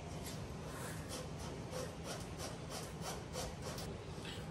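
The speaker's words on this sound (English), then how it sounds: "let's drill a little hole here" A small hole being drilled by hand during rat rod work, a close, steady rasping grind with a rhythmic pulsing texture, heard alone.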